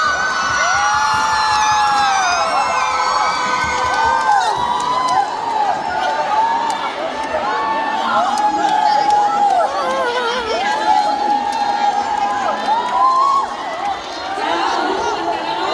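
A boisterous crowd cheers and shouts throughout a Women's Day tug of war, voices of many people rising and falling continuously, loud and close, with an announcer's voice heard over the noise.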